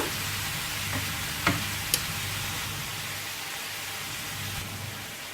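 Kebab filling frying in a pan over lowered heat: a soft, even sizzle runs throughout, broken by a couple of sharp utensil taps against the pan, and no one talks.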